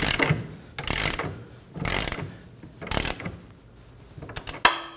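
A hand ratchet snugs a rear lower control arm bolt on a 2011-2016 Kia Optima, giving about four close, crisp clicking bursts with short pauses between them and a final sharp clack, with no voices.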